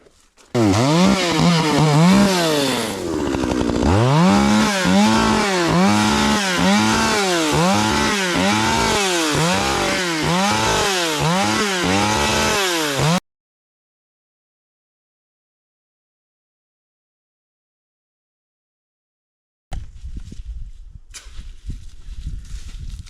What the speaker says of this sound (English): I'm just gonna do this quick and easy with the chainsaw.